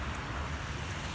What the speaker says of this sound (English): waterfall action going on in there.